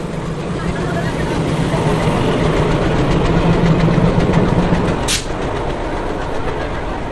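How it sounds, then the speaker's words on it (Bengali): The Maa Tara Express rolls into a platform with a continuous low rumble and hum and a brief sharp squeal partway through, heard up close. "আর আমাদের মাত্রা এক্সপ্রেস এখন ঢুকছে।"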